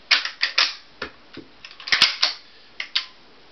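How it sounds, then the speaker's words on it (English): A Marlin 30-30 lever-action rifle is cycled repeatedly, producing a series of crisp metallic clacks and clicks in quick, uneven groups, close and alone. "The Marlin loads smoother than the Winchester. The action cycle's smoother."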